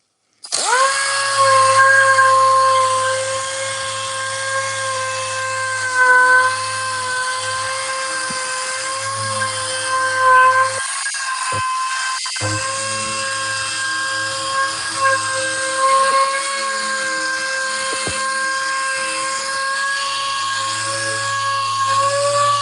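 A power sander works car clear coat with 3000 grit sandpaper during wet sanding, giving a continuous high whine with steady tonal hum and small dips in pitch as pressure changes, close and alone.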